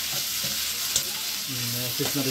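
Food sizzles steadily in a frying pan as a utensil stirs it, with soft scraping strokes over the hiss; no talking.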